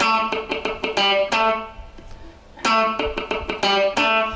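A funky electric guitar riff of short, choppy muted strums and bright harmonic chords in tight syncopated bursts, pausing briefly midway before the rhythmic pattern returns, played alone and up close.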